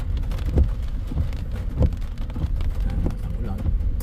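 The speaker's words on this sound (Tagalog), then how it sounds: "Lakas po ng ulan." Heavy rain falls during a visit in Tagkawayan, Quezon, a constant rushing patter over a low rumble with occasional louder drops, close and sustained throughout.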